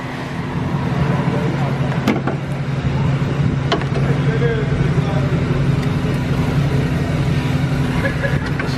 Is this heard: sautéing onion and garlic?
no